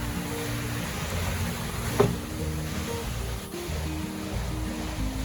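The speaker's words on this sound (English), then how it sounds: "Look at that water down there. It's flowing so fast." Fast-flowing river water in Zion National Park, a steady broadband rush heard from a distance that continues evenly throughout, with a faint low hum underneath.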